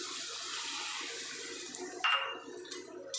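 Water left over from a cashew and coconut paste pours from a mixer jar into a pan of potato and capsicum curry, a continuous splashing rush that ends with a brief clink.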